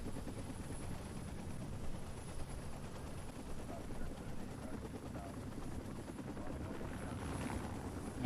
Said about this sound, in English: Those are gorgeous helicopters.